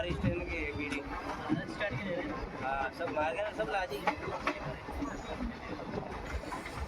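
Runicha Express with ICF coaches running along the track, a continuous rumbling clatter of wheels with rhythmic clicks and bumps, murmuring voices underneath.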